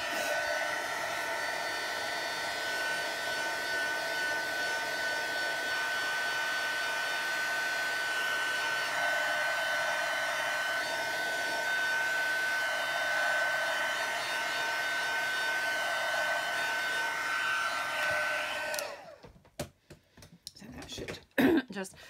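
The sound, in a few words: heat tool drying a wet handmade card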